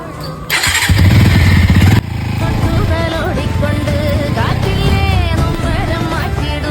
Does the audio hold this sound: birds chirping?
no